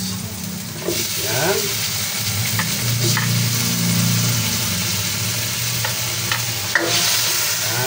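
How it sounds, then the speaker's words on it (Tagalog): Garlic, onion and tomato sizzling as they sauté in a pan, a steady frying hiss with a low hum beneath, broken by occasional scrapes of stirring and one brief spoken word. "Hintayin po natin na lumabas yung aroma ng ating mga ginigisa, katulad po ng bawang, sibuyas, kamatis."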